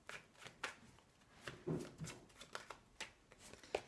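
Tarot cards handled and laid down in a reading, one card placed to cover another, heard as soft intermittent slaps and slides at close range.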